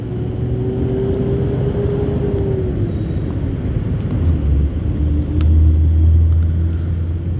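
A Yamaha R15 v3 motorcycle ridden at night gives a steady loud engine drone with wind rumble. Its tone rises and falls slightly as it cruises, and the sound swells near the end, with no talking.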